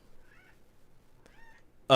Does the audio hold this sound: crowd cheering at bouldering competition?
no